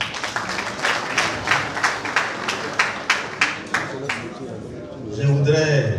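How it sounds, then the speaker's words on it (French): An audience at a football awards event in the Grands Ponts region claps for the mayor in a steady rhythmic beat of about a dozen unison claps, then a voice comes in over it. "Je voudrais qu'on l'applaudisse."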